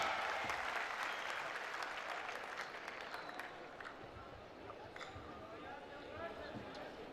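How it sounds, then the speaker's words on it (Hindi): Students at a school farewell party in Ali Pur, Punjab clap together, a thick burst of applause that gradually thins and tapers, with voices audible underneath. "आपकी भरपूर तालियां, अलीपुर को पता चले कि फंक्शन हो रहा है।"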